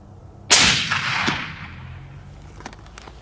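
A single loud Remington 700 rifle chambered in .300 Win Mag fires once on an outdoor range, a sharp blast followed by a long rolling echo that fades over about two seconds.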